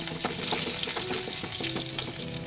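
Chopped garlic sautéing in leftover hot oil for a mushroom chilli starter, a steady close sizzle running throughout with a few brief scraping stirs.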